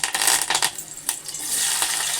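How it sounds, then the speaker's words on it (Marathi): Curry leaves dropped into a hot pan of oil for a Malvani prawn curry, giving a few crackling pops followed by a steady sizzle that rises and holds. "सो आता मग मी कढीपत्ता ॲड करते"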